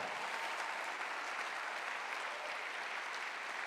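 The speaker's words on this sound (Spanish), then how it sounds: "Denle ese aplauso al Señor" A church congregation applauds continuously during a service, a dense, even wash of clapping at moderate distance with no breaks.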